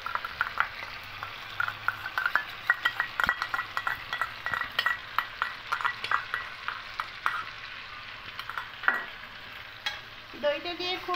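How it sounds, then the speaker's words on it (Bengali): Chicken being mixed with yogurt in a hot pan, a utensil stirring and scraping in steady repeated strokes over a soft frying sizzle, close and clear with no talk. "দইটা দিয়ে খুব ভালো করে আরও মিক্সড করে নেব"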